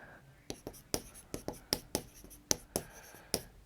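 Marker or chalk writing out an inequality during a Class 12 linear programming maths lesson: a string of crisp, close taps and short scratchy strokes in an uneven rhythm, with no talking.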